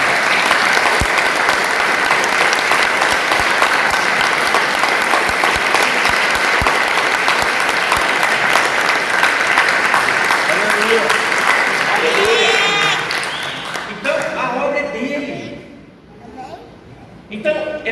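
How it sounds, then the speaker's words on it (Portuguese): A church congregation applauds loudly and steadily for about twelve seconds, the dense clapping then thinning out and fading, with a few voices heard near the end. "Você pode aplaudir o Senhor Jesus?"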